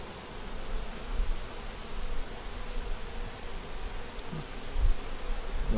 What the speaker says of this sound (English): This one here has bees on the pollen.